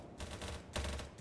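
SV 98 sniper rifle fire in the video game BattleBit, with two loud, sharp bursts close together that ring out briefly against steady game noise.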